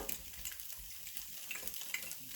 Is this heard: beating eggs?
yes